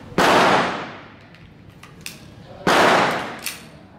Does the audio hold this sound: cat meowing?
no